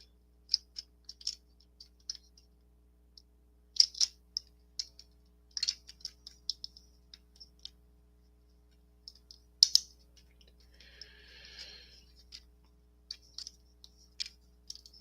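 Small plastic clicks and snaps from a Transformers Optimus Prime toy as its wheels are folded in, a quiet, irregular series of close, sharp ticks with brief pauses, alone.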